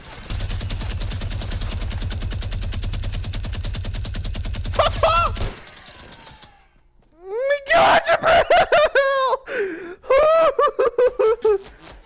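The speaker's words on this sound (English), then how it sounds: "He has a minigun, so look out." Fortnite minigun firing in a rapid, continuous rattling stream for about five seconds, then cutting out, followed by loud excited voices and shouting.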